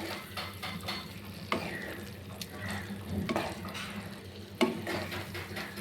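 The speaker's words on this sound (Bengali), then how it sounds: "ডিমটাকে মশলার সাথে ভালো করে মিশিয়ে নিব।" Fried eggs get stirred into a spice masala in a pan, soft sizzling under repeated scraping and clinking strokes of a spoon against metal, close and fairly quiet, with no one talking.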